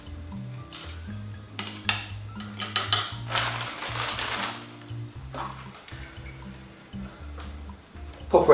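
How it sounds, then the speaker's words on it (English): A spoon clinks and scrapes against a container while turbo yeast is added to homemade blackberry and apple cider, a series of close, light metallic taps and rattles over a faint background hum. "I'm just going to pop a spoon of that in there"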